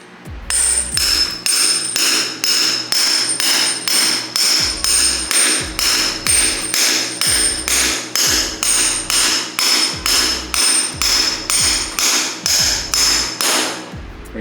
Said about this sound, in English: We're gonna set it in and hammer it all the way to the nut.